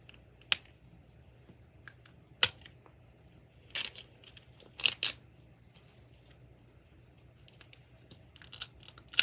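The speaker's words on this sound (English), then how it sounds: "first we unzipper the zipper." A zipper is pulled open on a miniature toy package of Harry Potter Cauldron Cakes, heard as a few short, quiet scratchy bursts separated by pauses in an otherwise still room.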